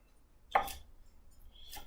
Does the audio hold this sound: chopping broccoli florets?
yes